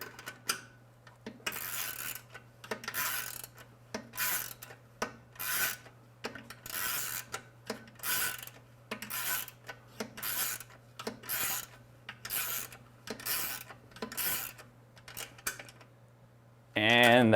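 Repeated rasping ratchet strokes tighten a bolt on a frame assembly, about a dozen short bursts in steady rhythm up close, with a brief louder sound at the very end.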